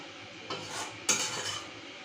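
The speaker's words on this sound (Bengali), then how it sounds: "হালকা হাতে একটু নাড়াচাড়া করে দেবো, যাতে এই মশলাগুলো এই ডিমের মধ্যে ঢুকে।" Egg korma gently stirred in a pan, two soft scraping strokes of a utensil against metal over a faint low sizzle, quiet and close.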